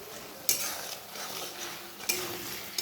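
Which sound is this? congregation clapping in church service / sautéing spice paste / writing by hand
sautéing spice paste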